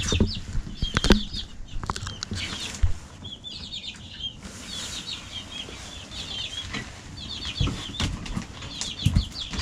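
Baby chicks and two turkeys scuffle about a farm coop, with wings flapping in short bursts amid soft cheeping and rustling, close and fairly quiet throughout.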